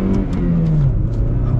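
A supercharged Chevy Cobalt SS at full throttle gives a loud, continuous engine roar whose pitch climbs steadily as it accelerates, with no talking over it.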